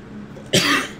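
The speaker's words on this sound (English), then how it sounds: "coughing fit" A single harsh cough bursts out close by, abrupt and breathy, after a moment of quiet room noise.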